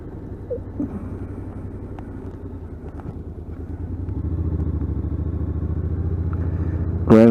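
A motorcycle idles close by, its engine putting steadily, then revs up and builds into a louder, rising drone as it rides off over wet, leafy ground.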